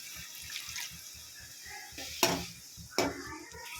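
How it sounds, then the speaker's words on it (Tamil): A little water pours and splashes into a hot pan of chilli-powder gooseberry relish, sizzling and bubbling, with a couple of sharper splashes near the end, under a faint low thumping background. "வந்து கொஞ்சமாக தண்ணி விட்டுக்கலாம்"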